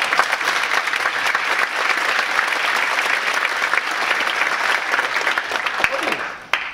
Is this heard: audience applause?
yes